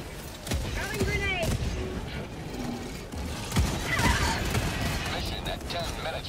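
Sentry turret gunfire in the video game Helldivers 2, bursts of shots with booms and mechanical clatter amid a busy battle soundscape, with a voice talking over it.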